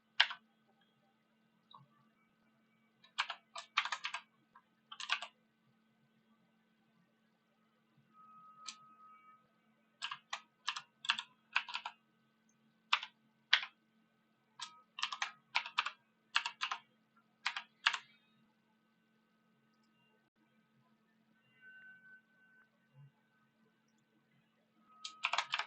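Computer keyboard typing comes in quick, close bursts of crisp key clicks separated by short pauses, with a faint steady hum underneath and no talking.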